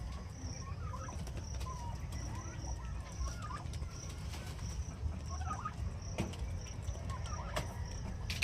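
A flock of turkeys eats small sea stones, with scattered soft clucks and short gobbling calls repeating over a steady rustling background, fairly distant and without a clear lead voice.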